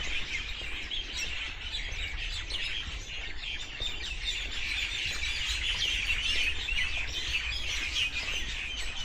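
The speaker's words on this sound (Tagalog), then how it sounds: "daming ibon." Dense chorus of many birds chirping and calling continuously in Auckland, New Zealand, bright and busy throughout with no talking.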